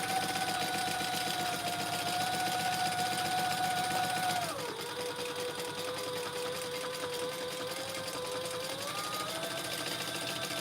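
A sewing machine stitching soft vinyl, a fast steady mechanical whir that dips in pitch partway through as the motor slows, running alone and close.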